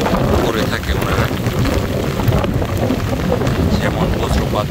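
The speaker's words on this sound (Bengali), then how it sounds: "যেমন বজ্রপাত, তেমন বাতাস, আর বৃষ্টি তো রয়েছে" Thunderstorm over tidal floodwater beside a river, with wind and heavy rain making a dense, steady roar that stays loud throughout and has no clear separate thunderclaps.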